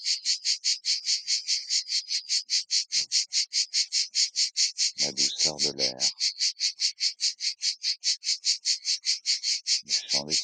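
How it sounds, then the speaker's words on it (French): Cicadas sing in Provence in a loud, steady pulsing drone of rapid rhythmic chirps that runs unbroken throughout, while a soft voice speaks briefly over it. "le chant des cigales si c'est le cas"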